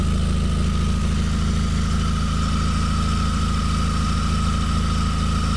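A Nissan Sentra engine runs steadily just after an oil change, a loud, close, even idle-like drone with no talking.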